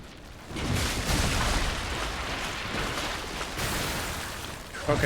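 Explosions in Lies of P, a sustained rumbling blast that swells in after a quiet start and holds loud and broad, with a second surge near the end.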